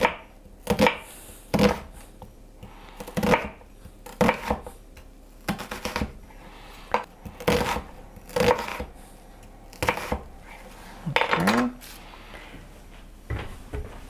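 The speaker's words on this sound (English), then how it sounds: "now I'm just going to make very thin slices with this" A knife slicing vegetables thinly on a cutting board for vegan spicy tofu ramen, a series of distinct close taps and chops in uneven groups, each separated by short pauses.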